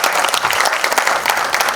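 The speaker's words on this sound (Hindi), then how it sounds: "बात, तालियां एक बार।" Audience applause at a launch event for a debut ghazal album, dense steady clapping from a crowd filling the whole stretch without pause, loud and close.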